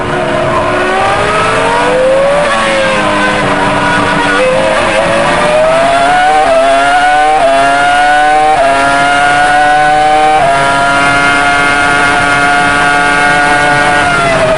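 Formula 1 race car engine at the French Grand Prix, a loud, continuous high-pitched scream that steps down through downshifts and climbs again, with rising and falling rev sweeps and no talk over it.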